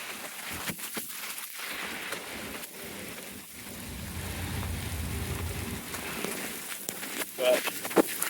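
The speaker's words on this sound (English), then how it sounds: "Feels kind of nice, to be honest, here with this rain." Steady rain falls during a big storm at night, spread across the whole stretch with a broad hiss, while someone talks nearby.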